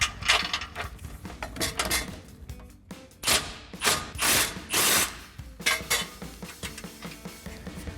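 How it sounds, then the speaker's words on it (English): A ratchet with 16mm and 18mm sockets works bolts and nuts on a Jeep Gladiator JT front bumper install, giving close, bursty clicking and metallic clatter in uneven spurts. "we'll grab that 16mm socket for the bolt. And then we'll swap out to our 18mm socket for our nuts."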